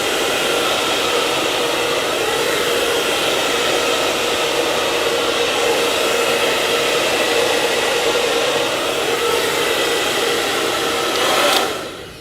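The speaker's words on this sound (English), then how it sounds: "you wanna use a hair dryer to kind of blow it back to the way that you're going" A hair dryer blows steadily and loudly as a constant whooshing roar, then clicks off at the end.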